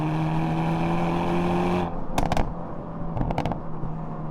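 A car engine held high at around 4,500 to 5,000 RPM in a steady, loud drone, then abruptly let off, followed by a few sharp pops and crackles as it falls back.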